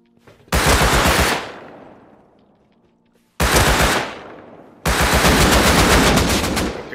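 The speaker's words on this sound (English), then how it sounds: "Okay, that's a fucking AK." Loud bursts of AK assault rifle fire in the survival game Rust: an opening burst with a decaying tail, a short second burst, then a longer sustained volley, all close and without speech.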